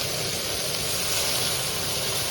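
Water poured into frying potatoes and kulekhara greens sets off a loud, broad hiss of steam and sizzle, steady and continuous for the whole moment with no talk.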